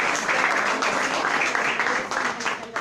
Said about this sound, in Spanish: les pedimos un fuerte aplauso para ellos dos